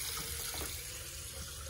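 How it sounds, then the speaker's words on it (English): Tap water running steadily into a bathroom sink, a continuous broadband hiss and splash at close range with no talk over it. "Let's let the water run."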